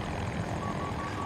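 Little Bird helicopter in the video game Battlefield 2042, a brief, steady whirring rotor and engine drone at even loudness, with no talk.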